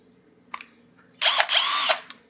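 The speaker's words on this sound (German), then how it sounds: "Nehme ich mal den Schrauber" A cordless drill-driver whirs briefly after a small click, then runs in two close high-pitched bursts that wind up and spin down.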